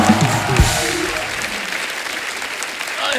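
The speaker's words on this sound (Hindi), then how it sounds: "जोरदार तालियां हो जाए हमारे मेहमानों के लिए" Studio audience on a Hindi comedy show, the Kapil Sharma Show, applauding guests: dense, steady clapping fills the whole stretch at a close, loud level, with a brief thump near the start.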